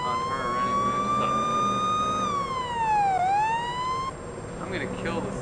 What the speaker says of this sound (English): I'm gonna kill the siren so you can hear me